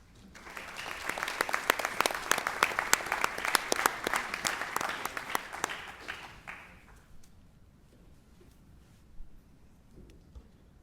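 An audience at a school board of education meeting applauds loudly for about seven seconds, then the clapping fades away into quiet room noise with a few scattered sounds.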